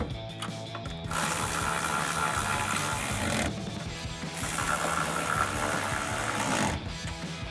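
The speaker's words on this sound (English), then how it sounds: "Grab our ratchet, 13 millimeter socket," A ratchet fitted with a 13 mm socket tightens nuts on RAM 1500 side step bar brackets, giving close, rapid clicking bursts in several long runs separated by short pauses.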